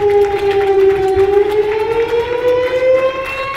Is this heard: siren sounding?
yes